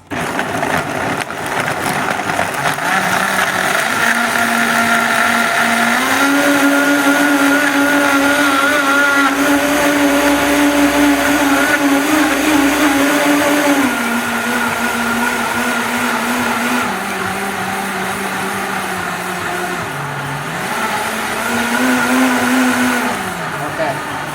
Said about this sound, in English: We're going to go ahead and blend this up.